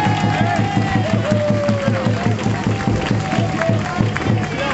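Outdoor crowd at a flower parade festival claps and cheers beneath a rhythmic, repeating band beat, with the applause loose and scattered across the busy mix rather than standing alone.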